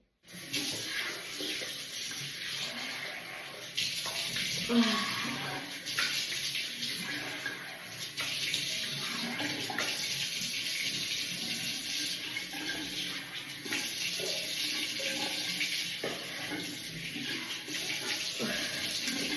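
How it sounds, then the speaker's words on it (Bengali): Steady hot water runs from a hotel bathroom tap into the basin, a continuous broadband rush with an even level throughout and no voices over it. "ও বাহ, গরম জল বেরোচ্ছে এবার, গরম জল পড়ছে হঠাৎ করে।"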